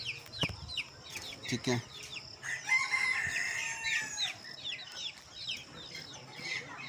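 A flock of one-month-old pure Indonesian breed chicks cheeps and clucks steadily outdoors in a cool breeze, with a brief spoken word near the start.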